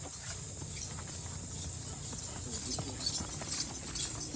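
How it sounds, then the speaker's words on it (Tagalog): A large horse walks by on a path near a nature camp resort, its hooves clip-clopping in an uneven rhythm over a steady outdoor background, moderately close, with no talking. "Ang laki ng kabayo."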